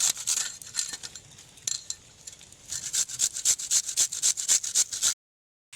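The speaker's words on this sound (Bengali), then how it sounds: "আলুটা আমি গ্রেটারের সাহায্যে গ্রেট করে নিয়েছি।" A raw, unpeeled potato rubbed against a kitchen grater, giving close, rhythmic rasping strokes that start uneven and settle into a steady quick run, alone and without voices, before stopping abruptly.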